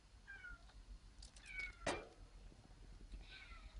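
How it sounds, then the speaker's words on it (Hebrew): A pet cat meows and wails in a home, giving a few drawn-out cries spread across a few seconds, faint and slightly distant, with no talking. "בגלל שהיללות זה החתול"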